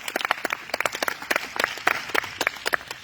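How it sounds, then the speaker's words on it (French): A church congregation claps in a loud, irregular burst of applause after a prayer-night testimony, the claps close and rapid for about three seconds. "Acclame le Seigneur Jésus-Christ"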